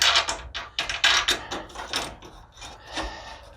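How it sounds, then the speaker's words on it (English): Metal washer and bolt being fitted to a pre-drilled John Deere 46-inch plow blade frame, a close series of clicks, scrapes and ratcheting taps in an irregular rhythm, fairly loud with no talk. "Then we're going to put a washer on, and"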